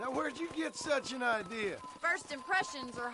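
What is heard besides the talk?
No everyday noises stand out.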